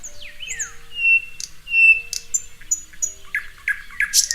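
Birdsong rings out close and clear, a mix of sweeping whistled notes, sharp chirps and rising squawk-like calls in quick irregular bursts, with no voices.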